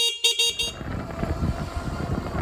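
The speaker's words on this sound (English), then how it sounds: "And you also have a horn." A Juiced Scorpion electric bike's horn gives several quick electronic beeps up close, then stops and leaves a rumbling background.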